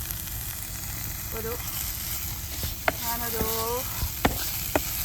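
Crushed small onions frying in ghee and a little oil, a soft steady sizzle with a few sharp pops, while someone speaks briefly over it.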